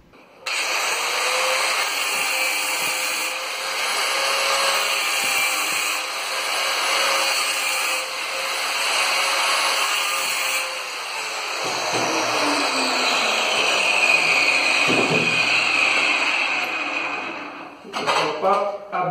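Marble saw cutting a round hole in a floor tile, a loud, continuous high grinding whine that holds for most of the stretch, then cuts out into a few clattering knocks at the end.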